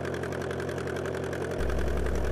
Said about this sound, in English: Okay, all the engine checks are complete. We're taxiing out.